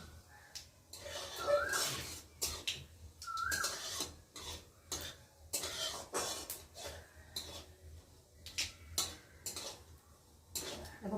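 Chillies frying in oil for a chutney tempering, with repeated bursts of metal spatula scraping and clinking against the pan in an uneven rhythm, close and fairly quiet.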